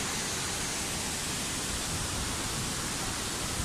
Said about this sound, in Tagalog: Tinuy-An Falls